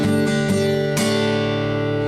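Another chord pattern strummed on acoustic guitar: three crisp strokes in a short rhythm, the last chord held and ringing steadily to the end, close and loud with no voices.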